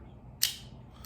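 A single sharp snip from a Calibri V cutter cutting a cigar, a brief crisp crack near the middle of an otherwise quiet moment with faint low background hum.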